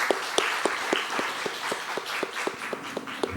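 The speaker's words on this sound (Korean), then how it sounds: "우리 중고등부 청년 친구들 축복하는 마음으로 박수 한번 쳤으면 좋겠습니다." Congregation at a Korean church Friday service clapping together in a steady, rhythmic beat, each hand clap sharp and evenly spaced, filling the sanctuary without voices.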